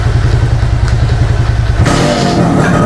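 A 1998 Suzuki X4 motorcycle engine idling while warming up, a steady close mechanical putter with rattly clatter, shifting tone partway through as the engine note changes.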